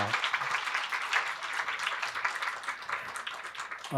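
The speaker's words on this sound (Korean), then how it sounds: "우리 선교사님 축복의 박수 한 번 더 부탁드리겠습니다." A church congregation claps in blessing for a missionary family serving in Rwanda at a spring family worship service; moderately faint, slightly uneven clapping that thins toward the end.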